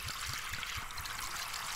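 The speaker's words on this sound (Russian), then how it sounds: "Все, наливаем пилу. Прям полностью сейчас заправим ее." Fuel trickling into a saw's tank in the game Darkwood, a short steady liquid stream with bubbling gurgles pulsing underneath.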